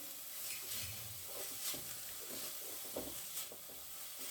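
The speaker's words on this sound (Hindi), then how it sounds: "बढ़िया से इसे मिक्स कर लीजिए" Vegetable spring roll stuffing with tomato sauce being stirred and mixed in a pan: faint, soft scraping and light sizzling in irregular strokes, quiet and close.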